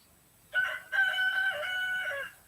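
A single loud rooster crow rings out close by: a brief first syllable, then a sustained quavering call that trails off, with no voices and only a faint background hush.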